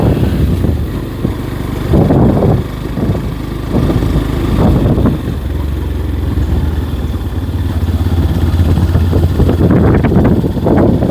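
A motorcycle rides along a village road in Holidrachala, Mirzapur, Tangail. Its engine drones steadily and close throughout, with low rumbling swells and some clattering, and no talk.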